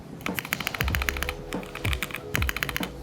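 Fast, uneven typing on an IKKI68 Aurora budget custom mechanical keyboard with OA switches, close up, a dense run of keystroke clacks with bursts and a few heavier bottom-out thuds, no voices.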